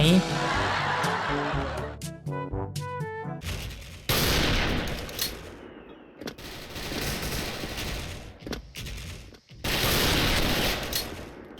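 Bursts of gunfire in the video game SF (Special Force), rapid automatic shots in loud volleys separated by short gaps, with a voice and chuckling mixed in.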